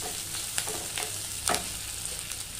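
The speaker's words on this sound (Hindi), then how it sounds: "थोड़ा सोटे कर लें, इसमें ये प्याज डाल दें।" Onion and green chilies sauté in a pan while a masala dosa filling is being cooked, giving a steady soft sizzle with a few brief stirring scrapes, close and moderately quiet.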